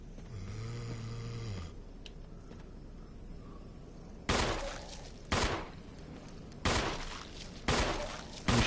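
Gunfire in the Resident Evil video game: a low droning tone fades out, then four loud gunshots fire at even intervals, each a sharp burst with a short decaying tail, with a fifth starting at the very end.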